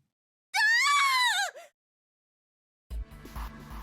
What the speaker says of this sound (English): Her scream nearly blew out Junpei's eardrums.